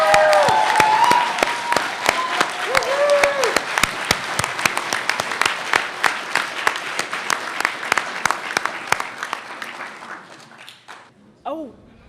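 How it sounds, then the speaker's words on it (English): Audience at a 2014-2015 HiSET high school equivalency graduation ceremony claps in a dense, lively burst that tapers off over about ten seconds, with scattered voices and cheers mixed in. "Let's give everyone a round of applause,"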